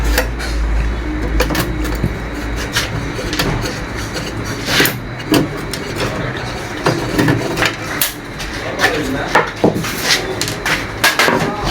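The cover of a Toshiba e-studio 2523ad copier is worked open during servicing, with clunks, clicks and plastic knocks over a steady background hum while someone talks nearby.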